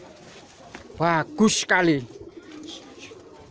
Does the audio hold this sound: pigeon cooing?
yes